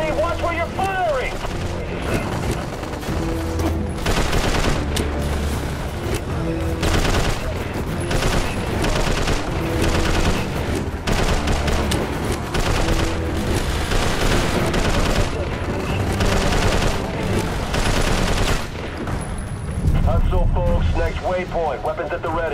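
Dense, continuous gunfire and explosions from the video game Prototype 2, with bursts of automatic weapons and booms packed loudly together throughout, while voices shout over the combat.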